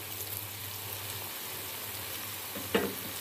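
Okra (bhindi) frying in a pan with salt, turmeric and dried coriander gives a steady, even sizzle, with one brief louder clatter of stirring near the end.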